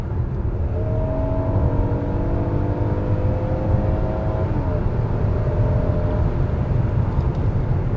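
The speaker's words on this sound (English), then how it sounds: "I'm going to go into sport mode, and let's see how fast I can get around this truck" A 2022 Hyundai Palisade in sport mode accelerates to pass a truck on the road, its engine note rising as a steady drone under loud road and wind roar, with no talking.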